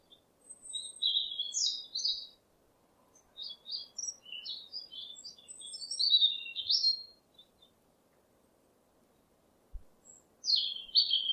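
A songbird sings in repeated bursts of high, warbling chirps separated by short silences, clear and close against an otherwise quiet background with no talking.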